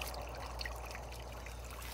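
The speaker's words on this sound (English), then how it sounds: "get this water down here for the piglets, top them off" Water trickles and pours steadily from a container into a trough for piglets on a homestead, faint and continuous with low outdoor background noise.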